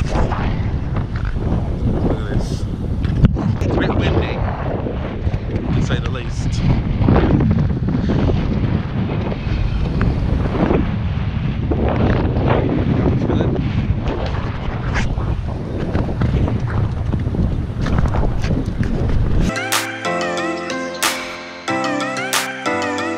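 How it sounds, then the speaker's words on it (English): Steady wind buffeting a microphone outdoors during an island ATV tour, a constant loud rumbling roar throughout that ends abruptly in music near the end. "Oh, the wind."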